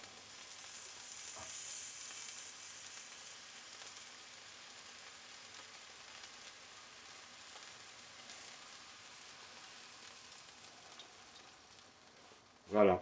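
Ratatouille with aubergines simmers in a covered-style pan on moderate heat after water is added, giving a steady, soft bubbling hiss with faint crackles throughout, and a sharper clatter right at the end.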